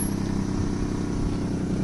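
A BMW car arrives, its engine giving a steady, moderately loud low hum and road noise, with no talking over it.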